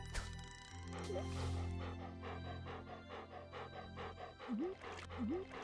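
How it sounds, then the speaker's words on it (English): Cartoonish dog barking in the Stardew Valley video game, several loud yaps and yips with upward pitch sweeps, repeated close by over layered game music. "This dog's a little loud."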